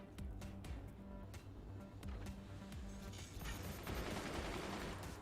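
Small incendiary-bullet gunner turrets firing in the strategy game Forts, rapid repeated shots crackling in a fairly quiet, continuous stream, growing into a denser burning hiss toward the end.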